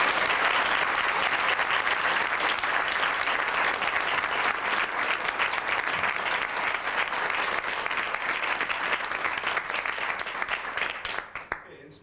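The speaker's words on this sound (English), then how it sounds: "Give him a round of applause." Seminar audience applauding a martial arts instructor, steady and sustained clapping from a roomful of people that fades out at the end.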